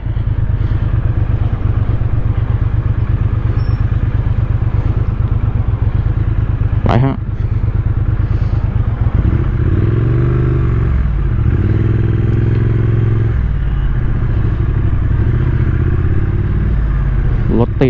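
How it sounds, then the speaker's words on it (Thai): Triumph Street Twin twin-cylinder motorcycle being ridden, a steady loud throbbing engine pulse close up, with shifting revs and a brief sharp knock midway, joined by a talking voice. "เสียงเพาะมากเลยนะสองสูบทวินของไทอัมอ่ะ"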